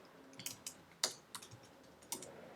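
Typing a name on a computer keyboard: several separate key clicks in an irregular, quiet sequence, close and alone with no talking.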